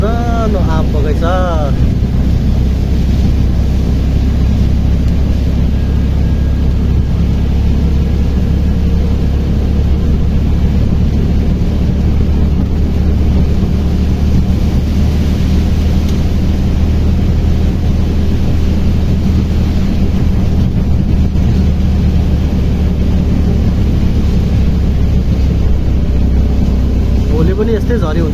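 Riding in a tuktuk (tempo) through the rain: a steady, loud low engine drone and road rumble fill the whole stretch, with wind buffeting the microphone and some talk in the background.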